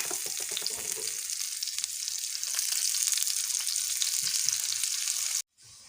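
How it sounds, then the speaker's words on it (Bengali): Chopped onion and crushed garlic frying with five-spice seeds in oil for a lentil tempering, a close steady sizzle with light stirring scrapes before an abrupt cut near the end. "পেঁয়াজ রসুন ভাজা হয়ে গেছে এবার হচ্ছে ডাউলের মধ্যে ঢেলে দিব"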